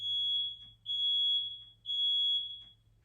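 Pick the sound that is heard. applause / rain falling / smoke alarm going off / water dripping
smoke alarm going off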